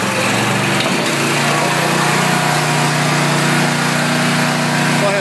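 A geoloop drilling rig's engine throttled up, a loud, steady, high-pitched mechanical roar with a constant drone that stays close and even throughout, with no talking over it.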